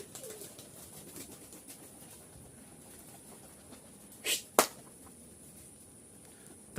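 Pigeons kept for sale, colour-matched Giribaz breed, coo softly in a loft against faint background hiss, with a couple of brief louder bird calls or flutters near the end.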